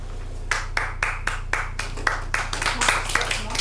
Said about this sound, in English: we're just applauding what we're seeing